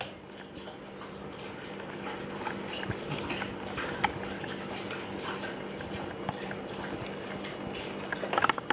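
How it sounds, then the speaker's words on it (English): A hang-on-back aquarium filter pump switched on with no water, its impeller spinning dry, gives a steady close low hum with faint scattered clicks and rattles throughout, no voices. "if you switch on the pump without water"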